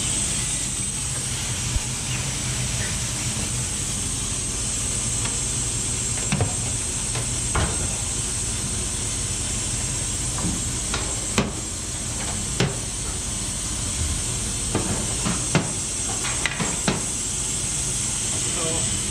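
Steady steam hiss from a mint oil distillation condenser at a working mint farm, a continuous broadband rush with scattered sharp clicks and knocks over low machinery rumble, with no talk.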